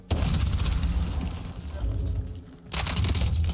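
Gunfire rattles through a Warzone match in bursty, continuous shots, loud and close, with a brief gap before resuming, under excited players talking.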